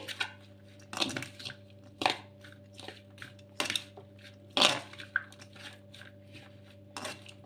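Dry semiya vermicelli tossed with salt in a bowl, giving repeated crisp crunching and scraping strokes in an uneven rhythm over a steady low hum, close and clear with no voices.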